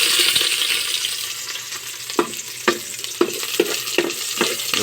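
Onion and garlic frying in oil give a loud, bright, continuous sizzle close by, with several sharp clicks of stirring against the pan and no talk.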